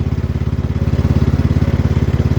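X T1 Enduro Series garden tractor engine running steadily at low speed, a loud, close, evenly pulsing mid-pitched putter with a regular rapid rhythm and no talking.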